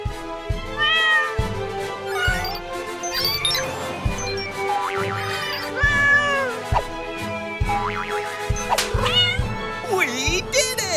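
A cartoon cat meows repeatedly in high, sliding cries over a bouncy children's music track, with animated voices around it.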